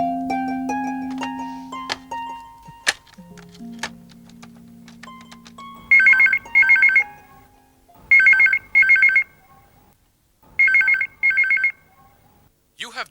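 A few dialing tones sound first, then a phone rings on an outgoing call in paired electronic trills, three pairs separated by pauses, clear and close.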